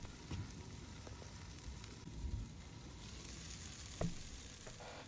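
Shrimp sizzle quietly under a steamer cover on a Traeger Flatrock griddle, a soft steady hiss with faint occasional pops and a brief knock, no speech.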